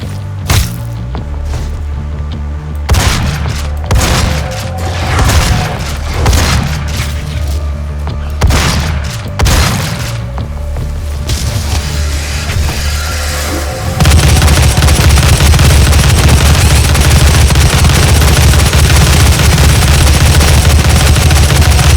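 Gunfire and heavy blasts from the 2016 Doom video game, a dense run of loud booming shots and bursts for the first half, then a continuous roaring wash of loud combat noise to the end.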